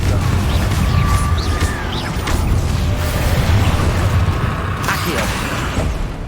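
Confringo explosive spell blasts in Hogwarts Legacy combat: a loud, continuous booming crash with rumbling low end and scattered magical crackles, dense and close throughout.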